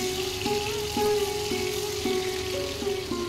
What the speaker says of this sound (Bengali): মাছগুলোকে আমি হালকা এপিট ওপিট করে ভেজে নেব